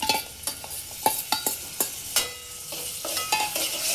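Onion and tomato frying in a pan for pulao, stirred with sharp spoon scrapes and clinks over a soft sizzle, close and fairly quiet.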